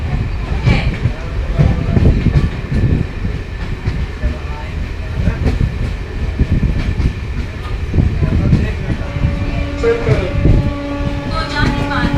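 A Katni–Chirmiri MEMU passenger train rolls along the rails with a loud continuous rumble and rhythmic wheel clatter, heard from on board, with a tonal hum rising near the end and faint voices in the background.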